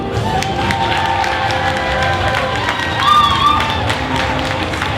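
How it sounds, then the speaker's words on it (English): Cheering and applause for the cosplayers at the DreamHack Winter 2022 cosplay show, with lively crowd shouts and clapping over a busy hall background, swelling briefly toward the end. "a big round of applause for everyone"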